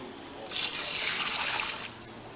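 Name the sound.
pouring home-brew beer liquid back into bucket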